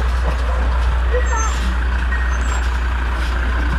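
A large truck manoeuvres and reverses onto a pavement edge at an adventure vehicle show, with a steady close diesel rumble, faint hiss and reversing beeps while a person speaks over it.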